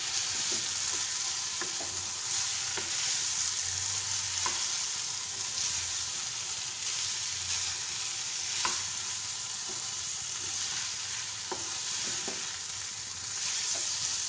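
White and black mustard paste fries in a pan, giving a soft, steady sizzle with sharp, intermittent scrapes and taps of stirring; fairly quiet and close, with no voices.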